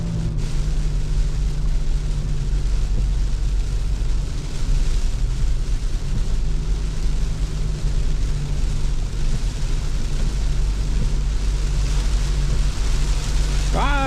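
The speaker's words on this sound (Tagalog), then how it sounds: "Lumakas ang ulan." Heavy rain pours down steadily around a car on a road trip through Alaminos, a loud, dense wash of noise that holds unbroken for the whole stretch, with a low road rumble beneath it.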